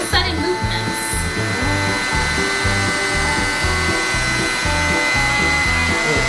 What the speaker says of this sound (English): You're just shaving the sides.